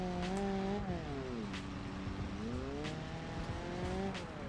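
An off-road car in BeamNG.drive drives with its engine droning and shifting pitch, the revs rising and falling in smooth sweeps over a steady rumble of tyres and terrain, loud and continuous throughout.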